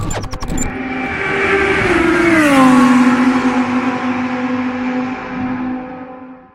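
Race car engine in a racing simulator accelerating out of a corner, a loud, close, rising engine note that peaks, then holds steady with a slight drop in pitch, after a few quick shift clicks at the start.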